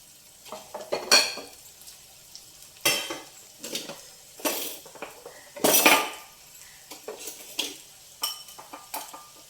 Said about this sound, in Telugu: ఉల్లిపాయ వేగిపోయిందండి